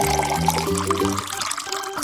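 Water pours into a bowl of flour, salt and yeast for pizza dough, making a close, continuous splashing trickle that tapers off near the end.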